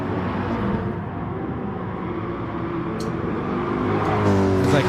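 Race cars, a Mercedes and a Porsche, drone steadily on a televised broadcast with engine noise rising slightly toward the end, heard through TV speakers.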